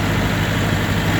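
A John Deere 450C bulldozer's engine running in second gear on high range, a loud, steady low diesel drone close by with no talk over it.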